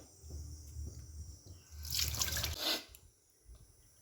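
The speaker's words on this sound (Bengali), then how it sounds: "মাছগুলো আমার ধোয়া হয়ে গেছে।" Tap water runs and drips as freshly cleaned bata fish are washed in a sink, with a louder splashing gush in the middle and soft trickling and low handling sounds before and after.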